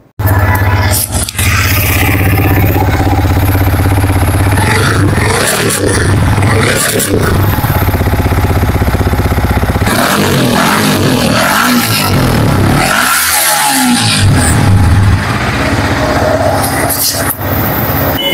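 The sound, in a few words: sport motorcycle engine idling and revving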